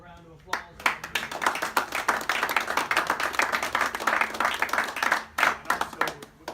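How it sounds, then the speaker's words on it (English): A group gives loud, close applause at a volunteer celebration for building and grounds helpers. Dense hand claps build quickly and hold for several seconds, then thin out, with a few voices underneath. "So we want to give you a round of applause."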